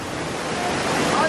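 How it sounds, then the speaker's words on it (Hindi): A roaring waterfall in Munsiyari, Uttarakhand thunders loudly and continuously at close range, a dense steady rush with no talk over it. "ये देखिए झरना,"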